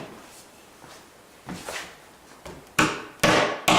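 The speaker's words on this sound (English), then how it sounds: "just knock it the rest of the way in with a hammer" A few sharp hammer knocks driving a book latch insert into wood, growing louder toward the end, after some quieter tapping and shuffling.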